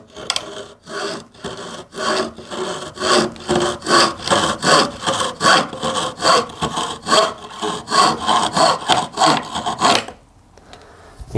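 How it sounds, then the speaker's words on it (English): Hand saw cutting through pine moulding timber, a steady run of close, loud rasping strokes in even rhythm for about ten seconds, then stopping. "Just let the saw do the work."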